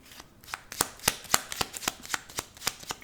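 Tarot cards shuffled by hand, a close, crisp run of rhythmic riffling flicks repeating about every quarter second.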